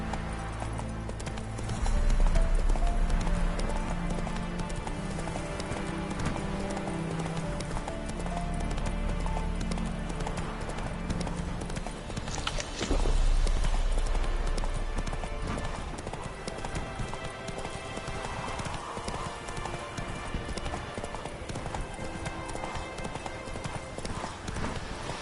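Roach, the horse in The Witcher 3, clip-clops along with steady, loud hoofbeats close by, breaking into a brief whinny midway, with game music and ambience underneath and no voices.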